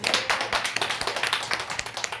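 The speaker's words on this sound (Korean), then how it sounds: "하나님께 영광의 박수 올립니다." Rapid, dense clapping from a church congregation during a Christmas thanksgiving service, steady and energetic for a couple of seconds.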